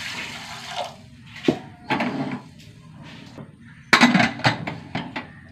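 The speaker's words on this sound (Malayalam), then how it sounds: "വെള്ളം ഒഴിച്ച് കൊടുക്കുക." Water is poured over soaked green gram for a spinach curry, with short splashing bursts mixed with clinks and knocks of a metal pot and utensils in a quiet kitchen, and no one talking.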